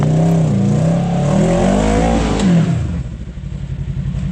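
Kawasaki KRX UTV engine revving on a rocky Windrock trail, a close, loud growl rising and falling in pitch through two throttle pulls before dropping to a rough idle.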